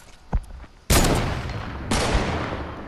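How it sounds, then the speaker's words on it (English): Two loud, close gunshots from a video game, each a sharp blast with a long rumbling decay, the second about a second after the first, preceded by a faint earlier pop; no talk over them. "I'm shooting again."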